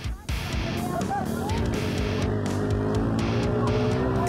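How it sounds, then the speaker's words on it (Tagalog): Motorized tricycles (bao-bao) racing in a competition, their engines droning loudly and continuously up close with tire noise and skidding, joined by voices over the racket. "Ang mabibilis na sasakyan, kalahok pala sa isang racing competition."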